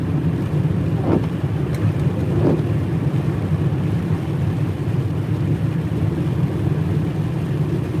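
Snow pellets falling during a drive through South Everett, heard as a steady broadband hiss over the low rumble of the car's road noise, with a couple of faint brief ticks.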